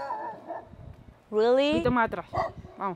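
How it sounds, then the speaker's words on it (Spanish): A neighbour's dog barks a few times in the background while people talk over it nearby. "Ese es el perro vecino."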